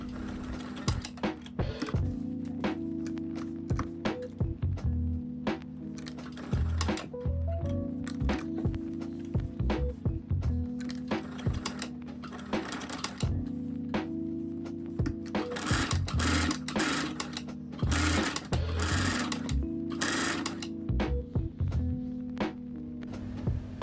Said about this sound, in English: so sew slowly and carefully